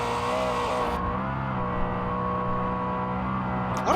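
A BMW M5 pulls hard under fast acceleration, a steady close engine drone with rising harmonic bands, loud and continuous with no voices over it.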